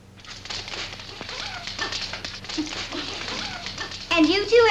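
Puppies yipping and whimpering in a 1940s comedy film scene, small high barks scattered under ongoing dialogue and growing louder near the end.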